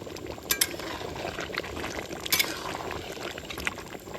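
Meat curry bubbling in a pot at a jungle picnic, a steady low simmer with a few sharp clinks of a utensil against metal near the start and middle.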